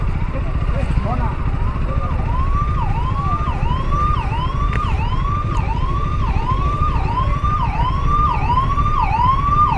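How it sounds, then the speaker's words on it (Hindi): A loud wailing ambulance siren cycles rapidly up and down over steady night traffic rumble in Guwahati, close by and continuous. "साइड दो, एम्बुलेंस को जाने दो।"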